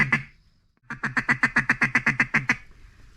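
Ducks during a Missouri duck hunt give a loud, close, rapid run of about a dozen evenly spaced quacks, each one sharp and nasal, after an opening call and a short pause.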